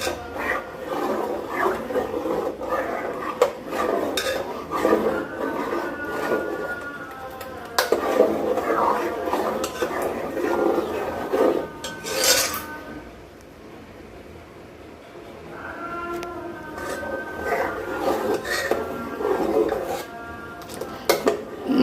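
Butter melts in a pot while it is stirred to make ghee at home. A spoon scrapes and rubs continuously against the metal, mostly steady, with a quieter stretch midway and a person talking over it.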